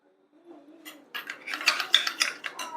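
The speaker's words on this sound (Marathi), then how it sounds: "मी फक्त 1 चमचा विरजण घेते, म्हणजे आधीची राहिलेली थोडीशी दही, आणि ती आपल्याला छान अशी फेटून घ्यायची आहे" A spoonful of leftover curd starter is whisked in a bowl with a spoon, giving quick, close clinking and scraping strokes in a steady rhythm that grows busier toward the end, with no voices.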